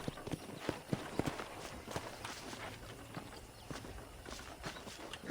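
Horse hooves from the Red Dead Redemption video game, a steady run of clip-clopping steps at close range with a light ambient bed and no talk.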